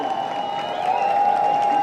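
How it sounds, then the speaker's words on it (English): Beach crowd at a surf contest, the VIVO Rio Pro in Rio, cheering and clapping for surfer Luana Silva, a continuous wash of applause and shouts that swells slightly, with a steady tone running beneath. "I mean, they're going off right now, cheering for Luana."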